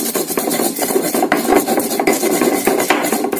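Coriander and garlic are ground into a fine paste, making a continuous rhythmic rasping and scraping with frequent knocking strokes, close and fairly loud, with no talking.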